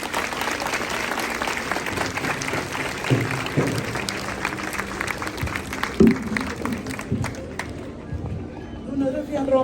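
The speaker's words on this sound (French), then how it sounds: "je voudrais qu'on applaudisse vraiment Oumou" Audience applauding at a flag-raising ceremony at a school in Thiès, steady clapping throughout with voices and shouts mixed in, tapering near the end.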